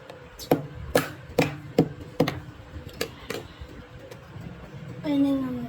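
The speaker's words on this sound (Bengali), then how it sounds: "ডাবটা কেটে দিচ্ছি, ডাবটা কেটে ওদেরকে দিই।" A green coconut being cut open with sharp knife chops, about eight crisp thwacks in a quick irregular rhythm, close by, followed by a short spoken phrase at the end.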